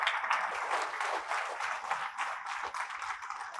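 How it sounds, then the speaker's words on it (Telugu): An audience at a Guru Purnima celebration gives a round of thankful applause, the clapping dense and continuous but moderately soft, as if from a fair-sized crowd. "మీరందరూ కూడా ఆయన్ని ఒక్కసారి కృతజ్ఞతలు చప్పట్లు పట్టండి."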